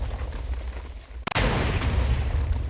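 A loud cannon blast fires and strikes a wall in a video game cannon build. A sharp boom is followed by a dense, sustained rumbling roar.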